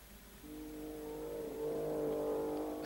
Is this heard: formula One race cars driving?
yes